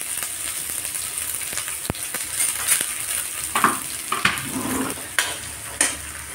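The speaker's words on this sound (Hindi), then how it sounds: "तेल थोड़ा हीट हो गया है तो मैं इसमें प्याज डाल दूँगी।" Onions sizzle in heated oil in a pan with a steady hiss, punctuated by a spatula scraping and clinking against the metal several times at close range.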